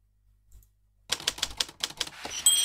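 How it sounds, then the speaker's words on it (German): Rapid, uneven keystrokes of a bewitched typewriter in the Bibi Blocksberg video game, starting after a second of near silence, loud and close, ending with a bell-like ding. "Eine verhexte Schreibmaschine."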